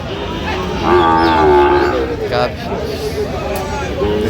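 A Sahiwal bull calf moos loudly at a crowded cattle market near Dhaka, a drawn-out bellow followed by a shorter second call, with people talking and market chatter all around.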